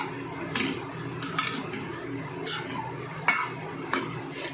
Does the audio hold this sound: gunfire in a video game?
no